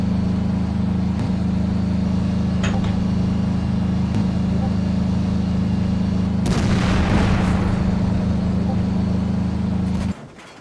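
A tank gun firing in Minecraft's Flans Mod, a Soviet heavy tank shot against a Stalin tank, with one sharp blast bursting over a loud steady engine drone, followed by a short rumbling tail.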